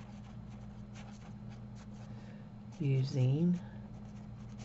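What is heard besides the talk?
writing on a Christmas card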